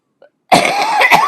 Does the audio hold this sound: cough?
yes